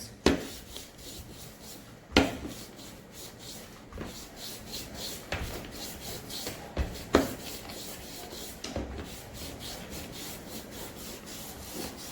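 Trimming excess fondant off a cake shaped like a cooking pot, a steady close-up scraping and rubbing with a few sharper knocks and clicks from the tool, and no voices.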